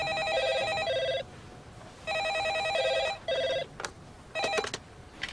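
Telephone bell ringing in a home, a loud electronic trilling ring in repeated bursts with short pauses, heard alone without voices.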